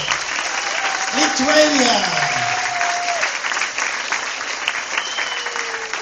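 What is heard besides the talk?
audience applause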